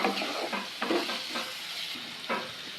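Turmeric, coriander and chilli powder masala with salt is sautéed and stirred in a pan for ghugni with mutton fat, a steady close sizzle broken by a few scraping strokes, with no voices.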